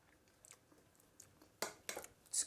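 Someone tasting a baby-friendly Austrian-inspired fish dish, with soft, close chewing and a few crisp bite sounds growing louder toward the end, quiet and without talk.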